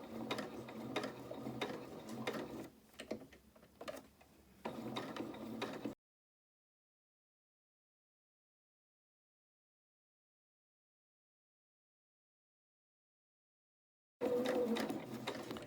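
Sewing machine stitching a fabric head wrap, close rapid mechanical whirring in bursts with brief pauses, cutting off into long silence before resuming.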